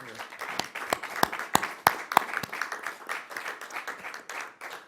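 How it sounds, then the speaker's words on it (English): Scattered applause from a small group at a school district board meeting, with distinct individual claps ringing out sharply at first, then settling into lighter, thinner clapping. "would hope you would join me in applauding our two heroes"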